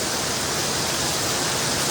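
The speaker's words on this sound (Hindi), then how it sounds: "देख लो जो बांस से लगा हुआ पाइप, उसमें 3 झरने लगे हुए हैं।" Water pours steadily from a bamboo-mounted pipe shower fed by a village waterfall, a dense, continuous hiss and splash heard up close, fairly loud and without any voices.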